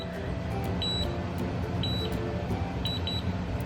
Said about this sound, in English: And you can hear like those beeps. Those are the 8 seconds that you have to leave it for.